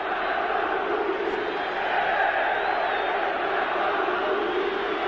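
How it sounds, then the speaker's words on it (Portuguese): São Paulo football fans in the stands during the 1999 Brasileirão semi-final against Corinthians, a dense, steady roar of crowd noise with shouting and chanting, sustained at even loudness, with a commentator talking over it. "a torcida do São Paulo. Reclama, se agita na arquibancada"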